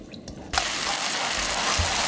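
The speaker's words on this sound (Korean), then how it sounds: "양념이 바글바글바글 끓고 있죠?" A seasoning sauce of soup soy sauce and garlic bubbles vigorously in a pan, a sudden rush of dense, crackling boiling noise that starts abruptly and continues steadily.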